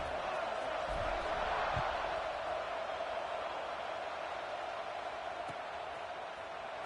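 A stadium crowd in the NCAA 26 college football video game roars in a steady, broad wash of cheering before a kickoff, holding an even level from start to finish.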